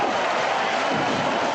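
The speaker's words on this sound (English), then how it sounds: "listen to this crowd showing its appreciation" A college football stadium crowd at Miami versus North Carolina in 2004 roars and cheers in a dense, continuous wall of noise heard through radio-broadcast audio.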